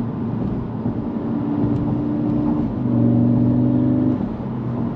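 A 2022 Audi S3 in sport mode accelerating on a Colorado mountain road, heard from inside the cabin as a steady engine drone that rises in pitch and swells louder midway, then eases off, with no talk.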